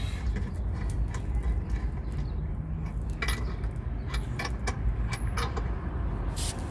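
Car keys jangle and clink close by in quick bright bursts beside a 2011 Ford Crown Victoria, over a steady low rumble of engine or road noise.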